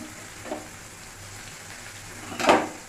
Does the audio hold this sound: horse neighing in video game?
no